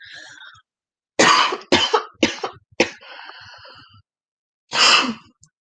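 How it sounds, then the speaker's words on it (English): Several short, harsh coughs come in a quick cluster after a breathy exhale, followed by a pause and one more cough, close to the microphone. "Hold on, I have to cough."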